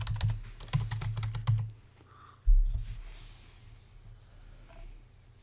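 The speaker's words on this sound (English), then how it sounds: "we're going to now type in, let's say," Quick, close clicks of typing on a computer keyboard for about two seconds, then a lone keystroke and some quiet breathing.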